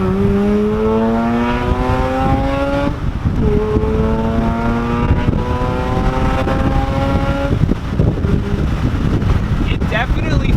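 A Mazda RX-8 with a Racing Beat exhaust launches hard with the windows down, its rotary engine winding up loudly through repeated rising sweeps and gear changes, heard from inside the cabin over heavy wind rush.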